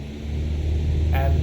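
A Cessna Skyhawk engine in Microsoft Flight Simulator 2024 holds a steady, droning low hum at full throttle during the takeoff roll, continuous and moderately loud with no talk.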